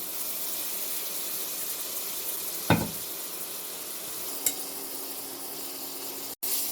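Carrot and onion sizzle steadily in a hot pan over low heat with a soft continuous hiss, punctuated by a couple of clanks from a utensil.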